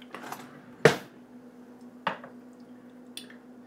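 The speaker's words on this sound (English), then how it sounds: "We're going to add 2 tablespoons of our coconut flour." Coconut flour is spooned into a mug for a keto mug cookie, giving a soft thud of a spoon against the mug and two lighter taps, close and alone in a quiet kitchen.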